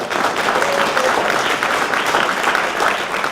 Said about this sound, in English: let's have a round of applause for them because they deserve it